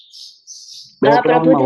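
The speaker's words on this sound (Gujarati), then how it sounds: "ચકલીઓ બોલે છે. ચકલીનો અવાજ આવે છે." Sparrows chirp in the background, giving a thin, faint high twitter for about a second. A voice then speaks loudly over them.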